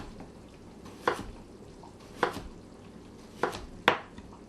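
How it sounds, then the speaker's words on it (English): A knife slices through a raw potato on a cutting board: four crisp, separate cuts land at uneven intervals over a quiet kitchen background, with no talking. "So first, let's cut up our potato."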